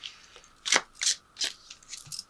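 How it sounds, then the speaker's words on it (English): Chakra clarity cards are tossed down for a tarot reading, making several quick, crisp papery flicks and slaps in an uneven rhythm, close and fairly soft, with no talking. "Let me throw a couple of these clarity cards."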